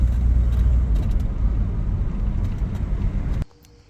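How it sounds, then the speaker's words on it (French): A gold Citroën CX Pallas 25 IE being parked, its engine a steady close low rumble that cuts off abruptly near the end, leaving quiet. "On va garer le véhicule"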